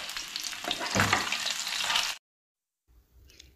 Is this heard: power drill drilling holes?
no